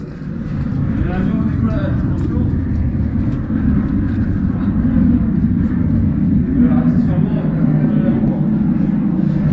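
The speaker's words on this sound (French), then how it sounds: "Désolé pour le son, c'est un avion qui passe." A fixed-wing airplane passes overhead near an abandoned Olympic swimming pool, a loud sustained engine roar that swells and holds for several seconds.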